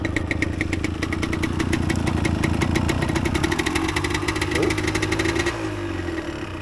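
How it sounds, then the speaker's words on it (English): A 1988 Yamaha DT200 two-stroke motorcycle engine idles close by without the choke, a steady rapid buzzing putter with a slight blip midway that settles back down. "See how she idles without the choke."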